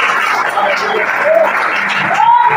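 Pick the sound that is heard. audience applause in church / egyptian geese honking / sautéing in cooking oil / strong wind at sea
audience applause in church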